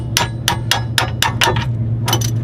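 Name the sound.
hammer striking the CV axle of an RX7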